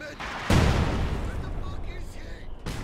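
Mortar and machine gun fire in a Company of Heroes 2 one-versus-one match, a heavy booming blast followed by sustained rumbling battle noise with scattered shots.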